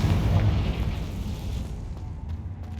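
A Confringo fire spell in Hogwarts Legacy bursts into a loud, booming fiery blast. The rumbling roar fades gradually over a couple of seconds, with faint clicks trailing behind and no voices.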